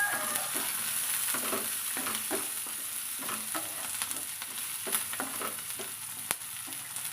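Curry leaves and thinly sliced carrot pieces are stirred in a hot pan, rhythmic spoon scrapes repeating about once a second over a constant frying hiss, close by and without speech.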